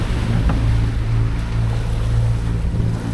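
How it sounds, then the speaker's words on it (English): Big ocean swell surges around a sailing boat, a continuous low rumbling wash with heavy wind buffeting on the microphone, loud and steady throughout with no voices. "Big swell coming through, just got to hold on tight."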